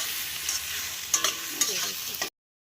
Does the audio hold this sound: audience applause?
no